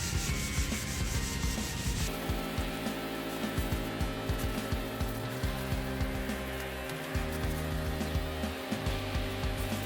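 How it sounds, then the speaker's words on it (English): Sandpaper rubs by hand over the fender well of a 1972 Chevrolet Chevelle in a garage, a close, rhythmic scratching of repeated back-and-forth strokes with no voices. "Whenever you're hand sanding, make sure you're using this part of your hand and not your fingertips"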